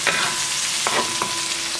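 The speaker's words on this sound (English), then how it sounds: "So I put a little bit of oil in there, a little salt and pepper. Okay, so you're going to let these saute." Ingredients sautéing in a little oil with salt and pepper for moo shu tofu, a loud continuous close sizzle broken by a few scraping stirs of a utensil in the pan, with no talking.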